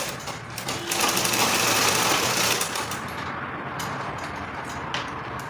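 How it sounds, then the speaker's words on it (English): A sewing machine stitches a sleeve cuff, working from the back of the sleeve. The whirring stitching is loudest early on and then softens into a steady, close hum. "I'll sew from the back and turn it to the front"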